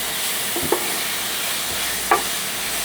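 Minced garlic frying in a pan and being stirred, with a steady broadband sizzle throughout and two sharp utensil scrapes standing out briefly.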